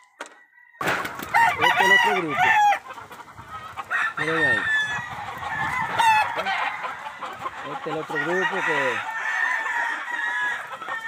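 Flock of roughly fifty to seventy hens with roosters on a farm, clucking continuously while roosters crow repeatedly, close and loud, with someone talking over them.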